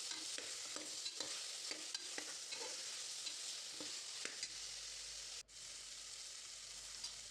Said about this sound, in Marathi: त्यानंतर टमाटर, बटाटा, सर्व मिक्स करून घेऊया.